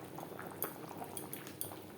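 Potatoes and pointed gourd simmer in spiced gravy for a vegetarian aloo potol dish, giving a quiet, steady bubbling with a few faint soft clinks and pops, no voices.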